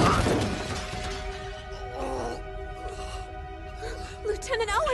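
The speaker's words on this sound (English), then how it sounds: "jumps and bashes through a window, rolls through the broken glass" A man smashes through a glass window, and a loud burst of shattering opens the sequence before scattered crunching and clattering debris continue under a busy action-scene mix.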